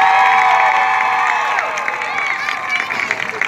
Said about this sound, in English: Let's give all these bands a great big round of applause.